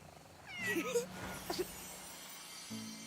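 A cat meows twice inside a video game, short rising and falling calls heard alongside low game music hum, fairly near and moderately loud.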